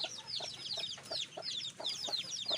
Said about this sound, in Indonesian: masih ada ayam kita yang baru menetas guys